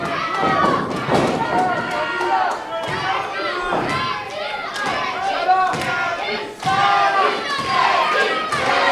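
A wrestling crowd at an FEW vs TNA tag match roars and chants in rhythmic surges, with thuds from the ring and a commentator talking over the din.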